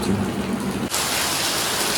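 Dense, heavy rain hisses steadily without pause, with an abrupt shift partway through to a brighter, harsher downpour.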